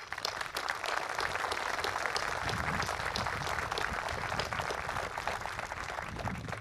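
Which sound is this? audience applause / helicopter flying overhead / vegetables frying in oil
audience applause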